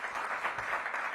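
A short stretch of applause for a guest at a civic announcement event, steady and fairly faint, heard alone without talk.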